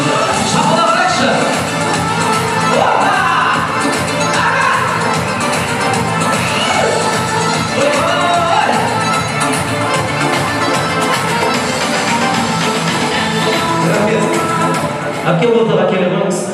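An audience at a Kazakh family celebration in Taraz claps and cheers steadily, a thick wash of applause and crowd voices with a faint melodic tone underneath, continuing without a break for the whole stretch.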